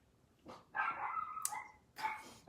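A few dog barks up close, loud harmonic yaps in two bursts with a short whine between, no talk over them.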